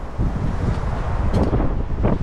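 Steady roar of wind buffeting the microphone, loud and continuous with gusty swells throughout.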